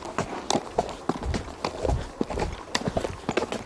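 Horse hooves clop along a country path between flowering rapeseed fields, an irregular run of close, fairly soft thuds with a little rustle and no talking.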